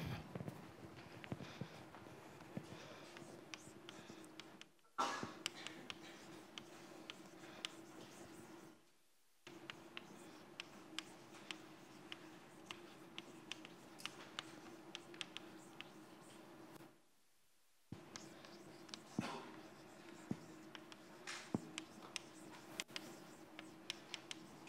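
Chalk or a marker writes on a board in a lecture hall, giving faint tapping and scraping strokes in bursts separated by short silent gaps, with no talking.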